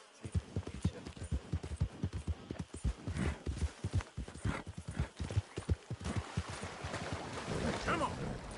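A horse gallops in Red Dead Redemption 2, with rapid clip-clop hoofbeats in a steady driving rhythm, close and fairly loud, and a brief snort or whinny near the end.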